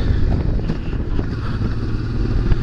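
Honda Transalp 650 motorcycle ridden off road, a steady close engine drone with rattling and clatter from the rough ground, continuous and loud with no voices.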